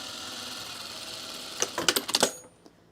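A sewing machine stitches a seam on pajama or sport shorts fabric, a steady whir that breaks into a quick run of clacking needle bursts near the end before stopping.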